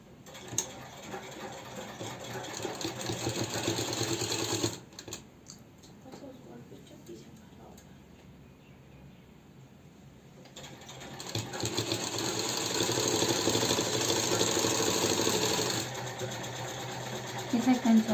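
A sewing machine stitches a seam on a sozni suit, rattling fast in two long bursts separated by a quiet pause of several seconds. A voice talks alongside the machine.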